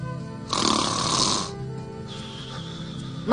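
A loud, rasping snore rises for about a second, then fades into a quieter breathy drone. The setting is a nighttime jungle camp in an animated adventure series.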